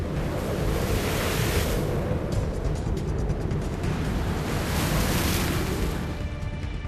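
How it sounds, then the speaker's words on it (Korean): Rough winter seas pound around a small 78-ton crab fishing boat in the open ocean, a loud unbroken roar of surf and gusting wind buffeting the microphone throughout, with no voices. "좀 가라앉는가 싶던 바람이 다시 성을 낸다"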